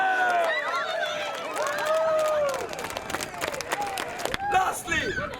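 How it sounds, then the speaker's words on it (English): Crowd applause and scattered cheering at a drift competition prize-giving in the UK, a steady wash of clapping with an announcer's amplified voice ringing out over it, fairly distant and moderately loud. "Massive round of applause for Jamie Stanton!"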